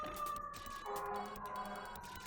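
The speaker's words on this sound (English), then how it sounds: "I apologize if you hear like the sirens and all that stuff." Emergency vehicle sirens wail in the background behind video game play, a steady faint tone that drops in pitch partway through, distant and low in level with no speech over it.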